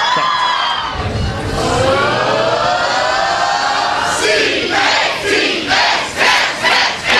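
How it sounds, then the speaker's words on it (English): A large crowd of University of Kentucky basketball fans cheers loudly in an arena, voices rising together in a sustained roar and then breaking into rhythmic, repeated shouted chant bursts near the end. "Howie is going to lead us twice in a cheer of C-A-T-S"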